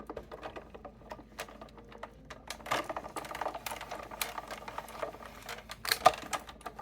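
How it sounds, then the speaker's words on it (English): Card and die run through a Big Shot die-cutting machine, giving a steady series of soft clicks, creaks and crank rattles over about seven seconds, fairly faint and close, with no talking. "And then I will run it through my Big Shot."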